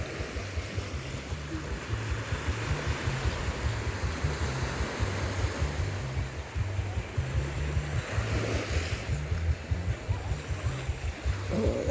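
Ocean waves roll ashore near a Hawaiian beach at golden sunset, a soft continuous wash of surf with gentle rhythmic surges and light wind across the microphone.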